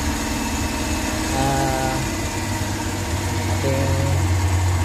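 A Suzuki K6A engine running again after its failed fuel pump motor was repaired, a steady close idle with an even low hum and faint higher whine, alone without talk.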